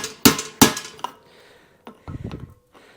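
Hammer blows on a rare Ford brake drum being fitted for a nailhead dragster: two loud sharp metallic strikes close together, a lighter tap, then scraping and clattering of metal.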